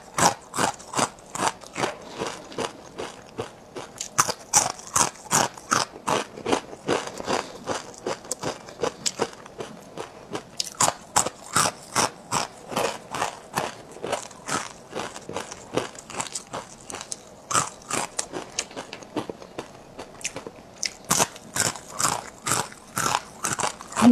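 Crispy, spicy, numbing Sichuan-style food crunched and chewed up close, a rapid, regular series of loud crisp bites and crunches continuing without pause, no talking.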